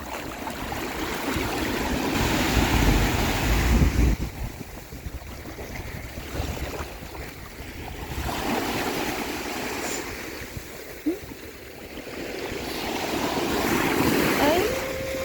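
Strong sea waves break and wash steadily at Stanley Beach on Hong Kong's south side, a loud roaring surge that rises and falls in long swells with wind noise, and no voices.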